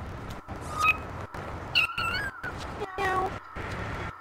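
Cats meowing inside the video game No More Heroes, several short rising meows spread over a choppy game soundtrack with repeated brief dropouts.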